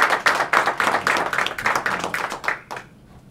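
A small group at a North Carolina governor's press conference claps for Fred, with sharp distinct hand claps in an uneven rhythm that thins out and stops near the end.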